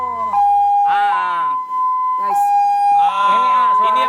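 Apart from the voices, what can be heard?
ambulance siren being tested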